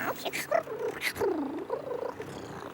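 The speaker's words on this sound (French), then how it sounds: "Un petit chat? Qu'est-ce que tu viens faire là?" A cartoon kitten purrs and mews with a soft, rolling vibration, up close and fairly loud, mixed with brief voice-like cries.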